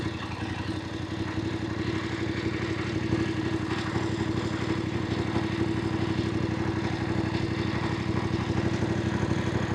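A Voge 900DSX motorcycle is ridden in sport mode with the throttle backed off, giving a steady, moderate engine drone under faint road rush. No one speaks.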